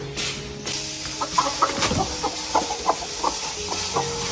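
Chickens cluck in a steady run of short, close calls while being fed vegetable scraps outdoors, with a soft hiss in the background and no talking.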